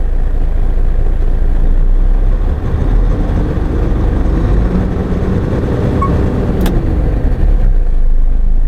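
A Japanese commercial truck engine runs steadily and loudly up close while the accelerator pedal is held down, a constant low rumble with no voices.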